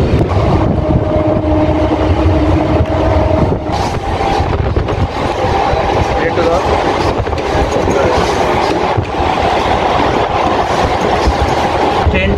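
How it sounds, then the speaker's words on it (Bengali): A fast Indian local train runs on the tracks, with a steady loud rumble, rattling carriages, and rushing wind noise across the microphone throughout. "ট্রেনটা এখন চাঁচাই স্টেশন পেরোলো"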